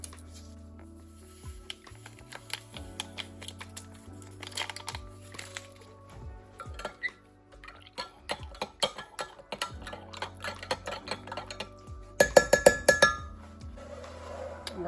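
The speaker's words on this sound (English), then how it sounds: "I'm just gonna put that inside the milk and stir" A spoon stirring instant yeast into milk in a glass, with light clinks and taps of metal against glass building to a quick burst of rapid clinking near the end.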